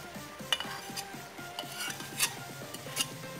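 A pastel (jalang kote) filling is stirred in a pan after scallions and celery leaves go in. A utensil scrapes and clinks against the pan in a steady rhythm, close and moderately loud, with no talking.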